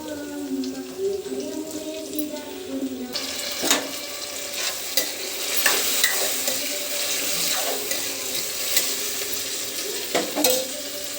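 Tomatoes frying with curry leaves in a pan for tomato rice, with steady sizzling and stirring scrapes throughout, plus brief clinks and a watery rush near the start.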